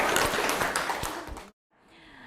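Classroom clapping for student group 1 in a psychology lesson, a dense burst of hand claps lasting about a second and a half, then cutting off abruptly into near silence.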